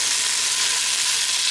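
Mushrooms sautéing in a pan, a steady, loud, close sizzle that holds evenly throughout with no talking.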